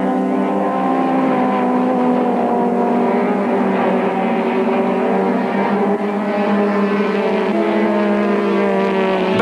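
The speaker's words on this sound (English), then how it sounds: "There's still some hectic racing going on out there among the Class D cars" Class D modified racing cars lapping a circuit in 1993, engines droning loudly and steadily with several overlapping tones as the cars pass, no voices over it.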